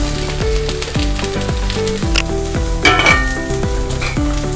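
Finely chopped capsicum sizzles loudly in a hot pan for fried rice, a steady close frying hiss with repeated stirring scrapes and light clinks of a utensil against the pan.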